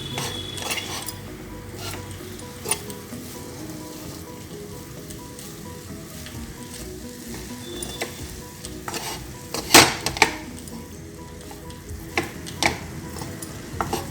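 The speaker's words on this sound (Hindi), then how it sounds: "इसको भुनने तक चलाएंगे" Mawa with cashews, almonds and raisins being stirred and roasted in a pan for gujiya filling: steady soft scraping and faint sizzle throughout, with a few sharper clinks of the spoon against the pan.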